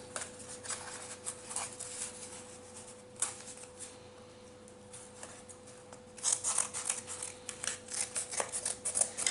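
Scissors cutting a curve out of paper, soft close snips and rustles, quiet at first and then a quicker run of crisp cuts toward the end, alone under a faint steady hum.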